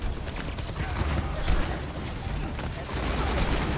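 Rapid gunfire from the Overwatch 2 video game crackles in dense, overlapping bursts, with loud near shots over a busy layer of battle noise that runs throughout.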